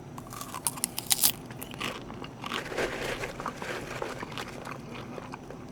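Close-up crunching and chewing of popcorn in an eating ASMR session, with a burst of sharp crisp bites early on followed by softer, continuous mouth crunches and chewing, intimate and near, with no talk.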